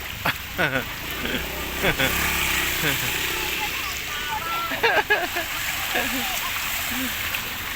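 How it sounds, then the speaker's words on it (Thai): Morning rain falls steadily, a constant hiss of drops on surfaces outdoors, while people nearby talk over it. "ท่ามกลางสายฝน"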